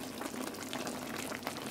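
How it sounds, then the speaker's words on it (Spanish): Pineapple syrup, thinned with a little pineapple juice, boils in a saucepan with a steady, dense bubbling heard up close and alone. "como ya soltó el hervor, voy a dejarlo 5 minutos a que esté hirviendo"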